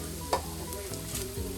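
A Cambodian-style banh xeo pancake frying in a hot pan, with a steady sizzle and crackle and a brief clink of a utensil near the start.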